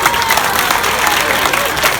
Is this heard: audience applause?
yes